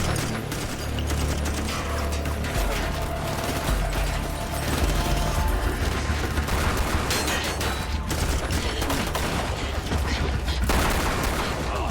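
Rifle and handgun gunfire in a police shootout scene from The Rookie: a dense, continuous volley of overlapping shots with mechanical clatter and a low rumble underneath, holding steady throughout.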